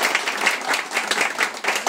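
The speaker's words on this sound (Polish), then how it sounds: "także zróbmy brawa dla nich." A crowd at a carp fishing competition claps for the event's sponsors, a steady burst of close, lively applause with no talking over it.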